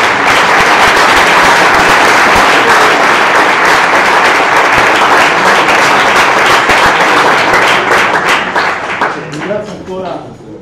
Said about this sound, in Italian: quindi un primo applauso per favore